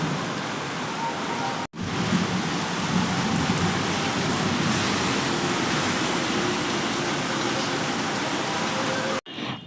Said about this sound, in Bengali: প্রচুর বৃষ্টি পড়ছে, তো তোমরা একটু সাউন্ডটাও শুনে নাও